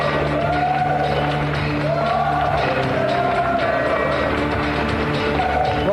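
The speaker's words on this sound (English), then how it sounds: "Let's give him a round of applause." Studio audience on the retro gaming show Gamesmaster applauds and cheers with whoops as a contestant is called down, a loud steady crowd roar sustained throughout with raised voices mixed in.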